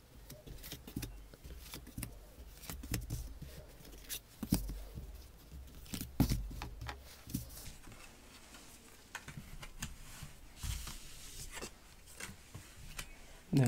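Tarot cards are handled and drawn from a deck for a five-card reading, soft papery flicks, slides and light taps scattered irregularly across a quiet room, close and faint.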